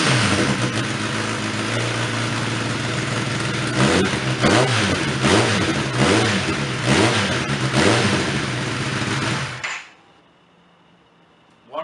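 A 2016 Kawasaki ZX10R with a Taylormade Racing exhaust sits at a loud, close idle, then blips through several sharp throttle revs before cutting off abruptly into quiet.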